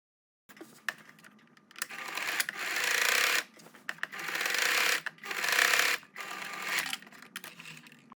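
A sewing machine top stitching a drop-waist Basque skirt runs in several close, steady bursts of rapid mechanical whirring, separated by brief pauses, with no talking.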